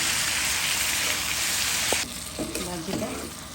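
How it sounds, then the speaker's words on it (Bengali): Bitter gourd fries lightly in a pan with a loud, bright sizzle that drops to a quieter crackle halfway through, with faint clatter and a hint of voice beneath. "দিয়ে দিলাম হালকা ভেজে নেব"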